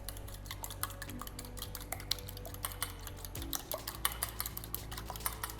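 An egg and other wet ingredients for sugar cookie dough are whisked in a bowl, a fast steady run of light metallic clicks and taps against the bowl, close but quiet over a low hum.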